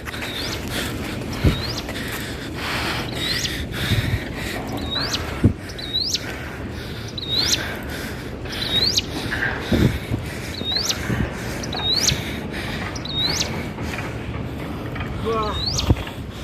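Bicycle gears on a desi cycle with a 32-tooth gear climbing a mountain, a repeated chirping squeak roughly every second over a noisy outdoor background of wind and riding.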